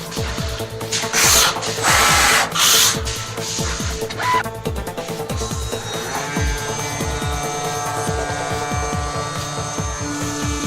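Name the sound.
automatic CNC machine drilling holes in 8 mm glass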